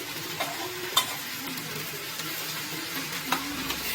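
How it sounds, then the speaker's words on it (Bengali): Chicken pieces fry in mustard oil with a soft, continuous sizzle, broken by a few clinks and scrapes as they are stirred and turned in the pan. "আমি এখানে সরিষার তেলে ভাজতেছি"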